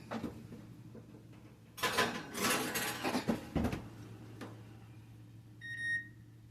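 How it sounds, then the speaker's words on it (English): A dish of broccoli and brown rice goes into the oven with clattering dish and oven-door handling noises for a couple of seconds, then quieter movement and a few short electronic beeps near the end, all over a steady kitchen hum. "So I'm going to put this in the oven."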